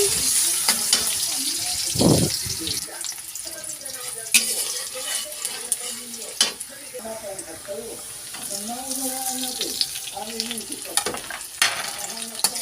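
Onions sauté in oil in a frying pan for pininyahang manok, a steady sizzle broken by scraping stirs, close by, while a voice talks in the background at times.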